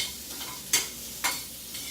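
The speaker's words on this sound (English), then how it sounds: "So I'm going to take the shrimp and saute them a little bit longer with the garlic." Shrimp sautéing with garlic in a pan, a soft background sizzle broken by two sharp scraping stir strokes, close and without talk.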